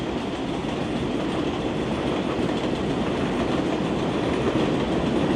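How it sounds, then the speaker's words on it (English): A subway train on an elevated line in Brownsville, Brooklyn rolls past nearby, a loud, steady rumbling roar with clattering wheels that holds for several seconds. "Then you're gonna see the subway line passing by."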